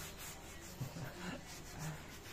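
Dirt is scrubbed off a surface by hand, giving a soft, close rubbing scrape that comes in a few short, uneven strokes at low volume.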